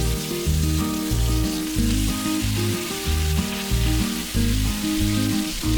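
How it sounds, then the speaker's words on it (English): 750 grams of mutton mince fries in oil in a hot pan, giving a loud, steady sizzle with a low rhythmic undertone from stirring, close and continuous. "fry the meat for about 3 to 4 minutes until the meat has changed its color"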